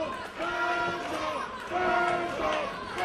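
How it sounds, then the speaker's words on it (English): A pro wrestling crowd cheers and chants for a wrestler, rising and falling waves of many voices that sound fairly distant and fill the whole moment. "Crowd rooting on Paul Burchill."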